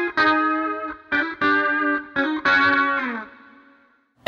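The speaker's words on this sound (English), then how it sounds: "Now let's say I'm playing and I want chorus and reverb." Electric guitar run through an Axe-Fx II with chorus and reverb switched on, playing several separate strummed chords with a shimmering, slightly distorted tone, each ringing out before a last chord decays into a short silent gap.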